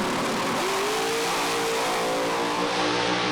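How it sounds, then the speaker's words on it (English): Pro Alcohol drag racing car at a Sydney East Coast Thunder event, its engine revving hard and steadily climbing in pitch, loud and close, a continuous roar with no talk over it. "he'll bump the car in, get his finger on the button, the revs will automatically go up"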